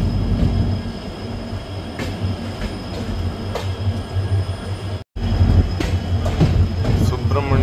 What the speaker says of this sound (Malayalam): നമ്മുടെ ട്രെയിൻ ഇതാ കൃത്യസമയത്ത് സുബ്രഹ്മണ്യ റോഡ് സ്റ്റേഷനിലേക്ക് എത്തിയിരിക്കുകയാണ്.